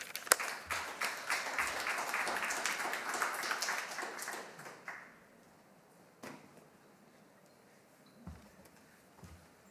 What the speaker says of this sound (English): Let's welcome him with applause.